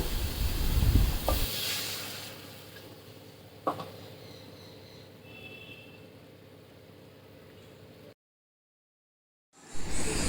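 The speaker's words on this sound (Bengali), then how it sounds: "তো মশলা এবার নাড়াচাড়া করে নিই, খুব ভালোভাবে কষিয়ে নিই।" Spice masala for a pomfret fish curry stirred and fried in a pan, a steady close sizzle with scraping strokes from a spoon, a couple of sharp clinks, then a brief gap of silence before the frying resumes.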